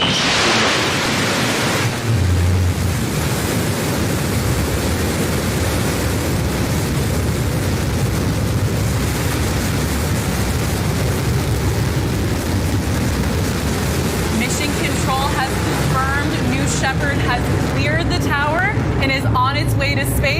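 A deep, continuous roar of Blue Origin New Shepard rocket engines at liftoff from Launch Site One, West Texas, rumbling steadily with broadband noise, while faint voices and crackling come through in the later part.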